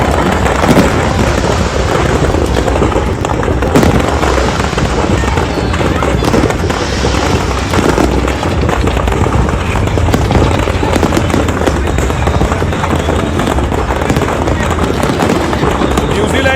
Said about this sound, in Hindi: आतिशबाजी आप देख रहे हैं।